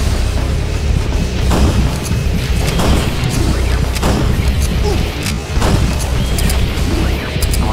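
Shotgun blasts in the Terminator Dawn of Fate video game, a dense run of loud, punchy booms amid continuous game combat noise and effects, with players talking over them.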